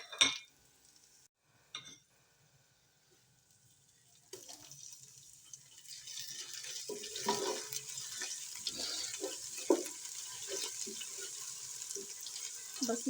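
Ginger garlic paste frying in a hot pan while cooking chana dal pulao, a steady broadband sizzle building after a few quiet seconds and continuing with scattered crackles and small stirring knocks.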